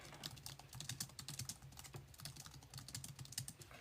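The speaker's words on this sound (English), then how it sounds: "Oh, Bree, don't type that again" Fingers type steadily on a computer keyboard, making a quick, continuous run of close, soft key clicks with no speech.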